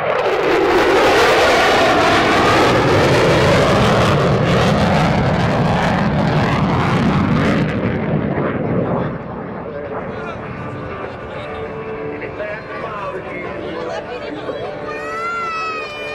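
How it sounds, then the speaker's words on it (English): An F-16 Viper fighter jet from a demonstration team roars past on a dedication pass at an air national guard open house airshow, a loud, sweeping jet blast that fades into distant rumble, with crowd chatter and announcer talk in the background. "from behind and the right, the F-16 Viper Demonstration Team proudly presents the"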